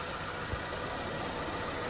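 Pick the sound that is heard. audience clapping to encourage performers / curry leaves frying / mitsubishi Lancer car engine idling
mitsubishi Lancer car engine idling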